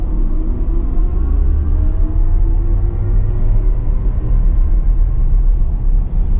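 Chevrolet Equinox EV RS, a 2024 front-wheel-drive electric car with regen set to zero, pulling away from a stop: a steady, loud low rumble of road and drivetrain noise with faint rising whine tones throughout, no talking.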